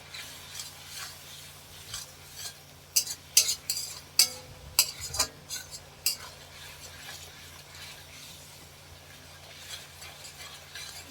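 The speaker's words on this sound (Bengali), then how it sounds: "এইভাবে নাড়তে থাকবেন মশলাটাকে আগে ভালো করে কষিয়ে নিতে হবে" Spiced meat curry is stirred in a pot with a metal spoon, giving a cluster of sharp scraping and clinking strokes midway over a soft steady background hum, quieter before and after.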